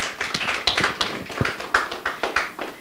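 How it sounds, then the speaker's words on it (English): Scattered, uneven hand claps from a small audience greet a guest at a panel debate on godfatherism and democracy, with sharp individual claps rather than a dense roar. "A round of applause for him."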